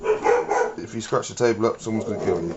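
A dog barks in short bursts indoors, several yaps close by and overlapping with someone talking throughout.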